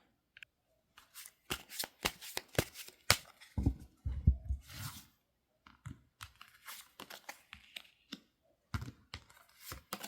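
Tarot cards shuffled by hand in quick papery riffles and flutters, coming in bursts with short pauses between them, close and fairly quiet, with no talking.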